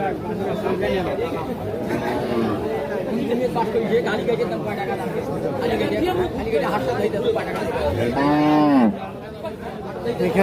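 A crossbred dairy cow gives a single loud, drawn-out moo near the end, amid a crowd of people chattering at a cattle market in Aftabganj.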